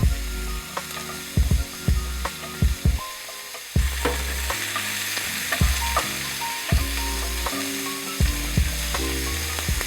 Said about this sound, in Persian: و حالا 1 قاشق چایخوری زردچوبه و نصف قاشق چایخوری فلفل رو هم با رب و پیاز هم سرخ میکنم.